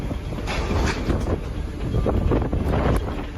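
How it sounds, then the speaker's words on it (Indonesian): Strong wind gusting across a cable bridge in Guizhou, southern China, during a storm, a loud steady roar with buffeting microphone rumble and no voices. "angin kencang yang menghantam Cina Selatan ini membuat jembatan kabel berayun tak terkendali"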